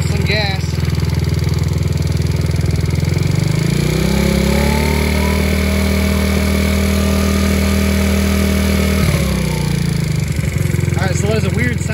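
A Taotao Pony 50 with a freshly installed camshaft idles steadily, then its small engine revs up to a higher held pitch for several seconds before dropping back, loud and close, with a voice talking briefly over it.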